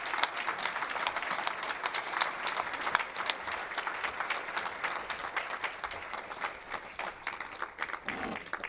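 Applause for President Ellis from the audience at an NAACP Brockton Branch 65th anniversary celebration, a continuous mass of hand claps with distinct individual claps standing out.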